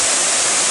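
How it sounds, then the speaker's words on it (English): The steady, roaring hiss of Tad Gneuang waterfall near Pakse, Laos, a loud, dense wash of falling water in a brief moment with no voices. "That's a waterfall"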